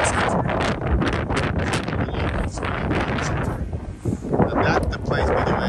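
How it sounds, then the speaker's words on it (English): Strong gusting wind buffets the microphone outdoors on a street on Vasilyevsky Island in St. Petersburg, a loud continuous roar with rustling. "it's today's kind of a dangerous weather because it's super windy"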